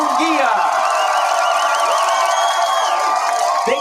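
Crowd at the Canelo Álvarez vs. Jaime Munguía boxing weigh-in roaring and whooping for challenger Munguía, a loud, dense wall of cheers and shrill shouts that holds steady throughout.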